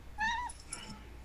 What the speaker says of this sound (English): see how big that cat is